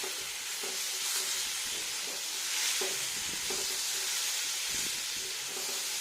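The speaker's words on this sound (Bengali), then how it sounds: "ওখানে দইটা একটু ভাজতে হবে" Yogurt frying in a pan for a plantain kofta curry, giving a continuous sizzling hiss broken by stirring scrapes and small bursts, close and fairly loud with no voices.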